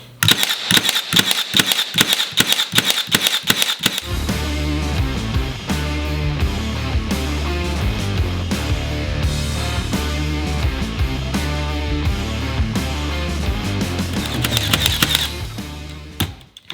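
A Milwaukee M18 Fuel Gen 2 18-gauge cordless brad nailer fires in rapid succession, a fast even train of sharp close snaps that gives way to a dense rattling mechanical clatter, then a brief return of crisp shots near the end.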